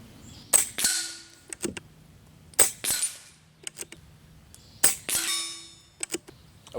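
An Airmaks Arms Katran air rifle fires at a target, three sharp cracks spaced a couple of seconds apart, each followed by a ringing clang of the hit and some handling knocks in between.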